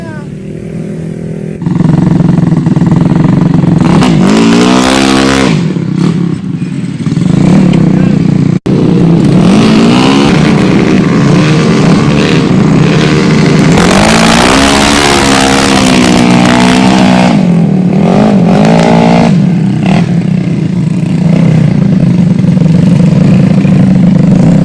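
A motorcycle engine runs loud and close near Alas Roban in Central Java, where the bike is stuck in mud, holding a rough idle with swelling revs for over twenty seconds while a voice talks over it.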